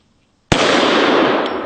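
A single Desert Eagle pistol shot cracks sharply out of near silence, loud and close, followed by a sustained bright ringing wash of noise that slowly fades.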